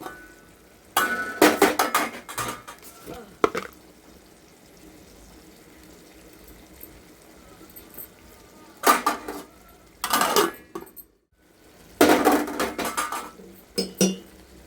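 Metal utensil clinking and scraping in a pot while stirring tomato chili lentil curry, in several loud bursts separated by quiet stretches, with no talk.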